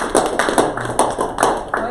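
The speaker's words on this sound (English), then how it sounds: "Why don't we end it with a quick round of applause?" A small group gives a brief round of clapping, a few scattered hand claps repeating unevenly over a couple of seconds, close and fairly loud, with voices talking over them.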